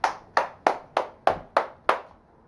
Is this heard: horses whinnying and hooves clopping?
no